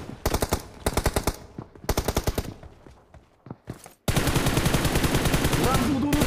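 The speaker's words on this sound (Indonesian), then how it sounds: "Belum tahu musuhnya nembak guys." Loud automatic gunfire from a shooting video game, first in several rapid bursts separated by short pauses, then a dense continuous barrage of shots and explosions filling the final two seconds.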